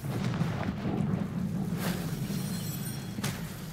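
The Confringo fire-blast spell goes off in the Hogwarts Legacy video game: a heavy, sustained rumbling blast with a couple of sharper crackling bursts layered over it, loud and close, with no voices.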